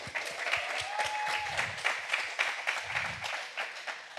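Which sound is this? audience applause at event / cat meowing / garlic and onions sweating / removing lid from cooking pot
audience applause at event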